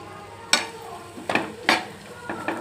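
A spoon scrapes and turns cooked rice in a pot, giving four or five short, close scraping strokes over a faint background sizzle.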